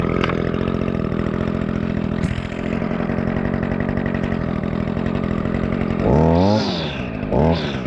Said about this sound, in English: We're going to start string trimming with it.